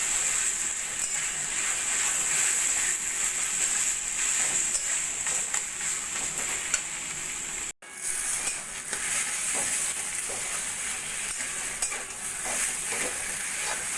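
Taro stems are stir-fried in a pan over a full gas flame, with a constant loud hiss and crackle broken only by a brief gap, close with no speech.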